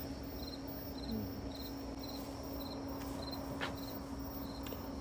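Rapid, regularly pulsed cricket chirps repeat steadily over a constant low drone at midnight in a garden in America, with no talking.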